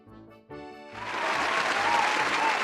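Studio audience applause that starts late, rising after a quiet opening into a steady, full round of clapping that continues to the end.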